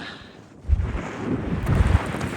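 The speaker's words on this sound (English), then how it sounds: "That wind's just beating it to death up here." Strong gusts of wind on a mountain peak buffet the microphone in heavy low rumbling bursts, rising and falling over a couple of seconds.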